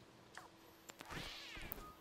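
A cat in the video game Stray lets out a short, quiet meow amid soft game ambience and a few faint clicks, brief and close with no talk.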